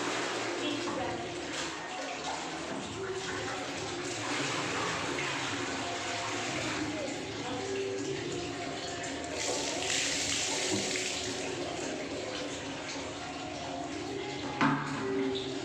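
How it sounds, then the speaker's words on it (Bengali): Water pours steadily into a basin filled from a tap or well, a continuous splashing rush with voices talking over it throughout. "হয়ে গেছে গামলা ভরা"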